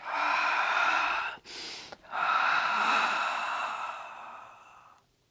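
Heavy, forceful exhales during a weight exercise: two long, breathy, close-up breaths out with a brief gasp between them, the second fading gradually.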